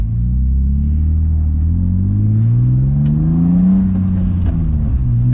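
A modified BMW E36's engine revs loudly and steadily from close by, its deep rumble climbing and falling in pitch as the throttle swings, with a few light clicks over the top.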